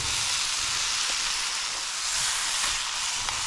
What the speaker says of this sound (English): we're going to put some tomato puree in, and we've got to cook that off